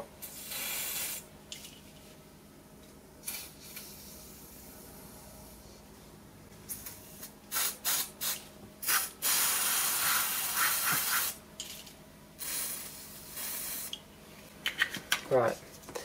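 WD-40 is sprayed onto the grate of a Morso Squirrel multi-fuel stove, giving sharp bursts of aerosol hiss of varying length over a quiet room background.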